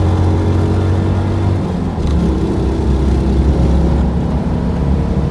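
A Citroen 2CV Special Dolly engine runs loud and close, a steady rumbling drone that holds throughout with a slight shift in tone partway through, and no voices over it.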